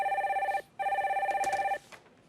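A telephone rings for an incoming call on a Korean radio call-in show, two electronic trilling bursts in a steady warbling pattern, clear and close, with no talk over them.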